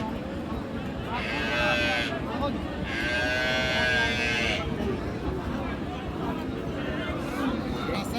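Sahiwal cattle at the Raniganj cattle market in Dinajpur lowing in two long moos, with further fainter ones later, over a constant market crowd babble and people talking.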